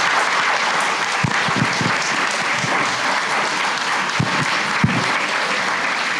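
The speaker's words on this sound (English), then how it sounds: "A big round of applause for all our graduates." Steady applause from an audience at a science award and graduation ceremony, dense continuous clapping with a few sharper individual claps standing out, no voices over it.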